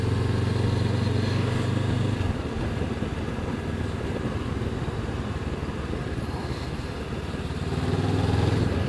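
A Honda CB500X two-cylinder motorcycle rides around a roundabout, its engine a steady mid-pitched drone heard close from the rider's position, with the note dipping and rising slightly through the turn.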